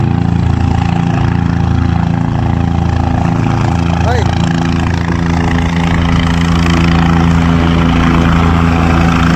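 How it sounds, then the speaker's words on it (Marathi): A helicopter landing, its engine and rotor roaring loud and steady throughout at close range, with a constant droning hum and no pause. "हेलिकॉप्टरची एकदम प्रॉपर लँडिंग सक्सेसफुल ठरली."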